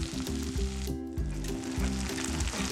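Masala spice paste frying in oil for a fish curry, giving a steady close sizzle with a brief dip near the middle, amid stirring sounds and soft background music.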